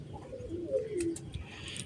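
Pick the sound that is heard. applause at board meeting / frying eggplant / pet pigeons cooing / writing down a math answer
pet pigeons cooing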